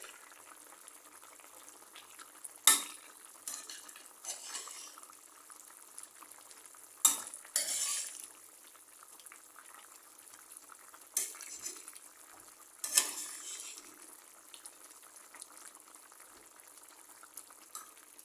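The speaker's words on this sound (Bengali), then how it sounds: "এখন মাছগুলি ভেজে রাখা মাছগুলি দিয়ে দেবে তরকারিতে" Fried pangas and tilapia fish go into a simmering curry of cucumber, potato and drumstick, with a faint bubbling hiss punctuated by several sharp utensil clinks and splashy stirs.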